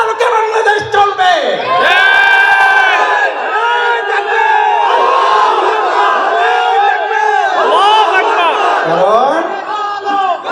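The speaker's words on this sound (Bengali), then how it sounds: "আমার এই নারায়ে তাকবীরের স্লোগান, আমার এই লিল্লাহে তাকবীর আল্লাহু আকবারের স্লোগান" A large, loud crowd shouts the Islamic slogan Nara-e-Takbir, Allahu Akbar in unison, with voices rising and falling in sustained, rhythmic chants that fill the whole stretch.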